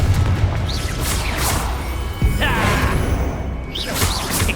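Confringo fire spell blasting in Hogwarts Legacy, a loud booming hit with a sharp whooshing burst over a busy game soundscape of music and ambience.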